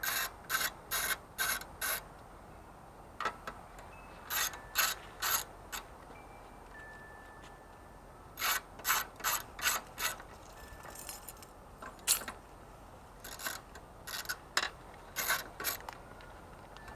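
The metal gas tank of a Toro Recycler lawn mower scrapes as it is slid back after its screws are removed, giving repeated short rubbing strokes in uneven clusters over a low steady background hum.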